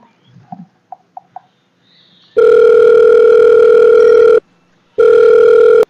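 A phone line purrs with two long, steady ringing tones separated by a short pause, preceded by a few soft, quick beeps.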